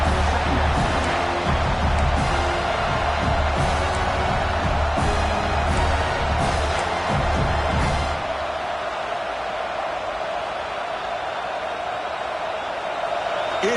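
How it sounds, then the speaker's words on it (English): A packed college football stadium crowd at an Oregon Ducks home game roars loudly and continuously, a dense wall of cheering that drops somewhat in intensity partway through. "It's early, but this crowd is fired up. Listen to this noise here."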